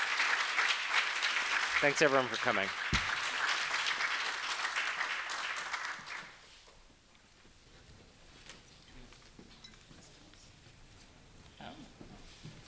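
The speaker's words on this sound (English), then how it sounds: "Please give a round of applause for our readers." An audience at a New School writers' session on food and immigrant life applauds its readers, loud steady clapping for about six seconds before it fades into quiet room noise, with a speaker talking briefly.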